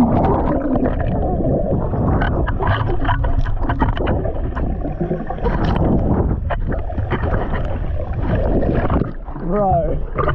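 A school of dolphins in the open ocean sends out squeaky whistles and clicking chatter underwater, heard through a muffled, roaring water wash, with a rising whistle sweep near the end and indistinct voices mixed in.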